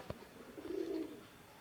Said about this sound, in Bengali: এই যে আমার কবুতরগুলো